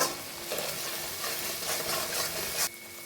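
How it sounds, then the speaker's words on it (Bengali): Spices with salt and sugar fry in a pan for a potato, pointed gourd and egg curry, a close steady sizzle with the rasp of stirring that drops off abruptly near the end. "দিয়ে ভালো করে মশলা কষে নেব"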